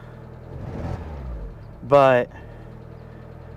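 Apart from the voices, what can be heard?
Mazda Miata engine running rough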